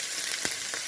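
Onion and banana stem sautéing in a pan, a soft continuous sizzle and crackle with a couple of brief stirring scrapes, close and fairly quiet, with no voices.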